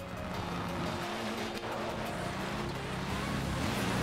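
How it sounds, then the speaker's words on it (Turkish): A Ford Focus rally car driving in Forza Horizon 4 on a light-rainy spring dirt course, a continuous engine drone with tire noise, steady and fairly loud throughout. "rally arabası"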